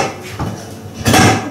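A cooking pot is handled in a kitchen, giving a soft clank followed by a louder metallic rattle and scrape, with no voices.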